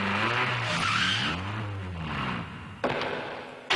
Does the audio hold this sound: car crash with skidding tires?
yes